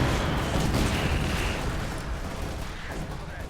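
Grenade blast in the Company of Heroes 2 strategy game, a Soviets versus Wehrmacht match: a loud, dense rumbling explosion that fills the whole clip and slowly fades, with no voices over it.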